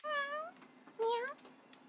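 A house cat lets out two clear, drawn-out meows in quick succession, close and fairly loud, the second rising and then falling in pitch, with a quiet room hum between them.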